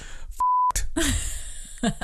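A single sustained electronic beep, clear and loud, with breathy vocal sounds before and after it.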